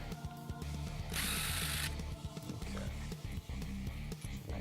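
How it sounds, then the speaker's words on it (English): A power screwdriver whirs briefly to back screws out of a guitar pickup selector switch, one short burst close by over a constant background hum. "take the screws for our selector switch out"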